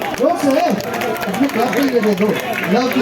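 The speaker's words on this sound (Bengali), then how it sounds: "সকলে জোরে করতালি দিয়ে উৎসাহিত করুন" An audience at a club function breaks into loud, sustained applause and cheering, a dense wash of clapping that carries across the whole stretch without pause.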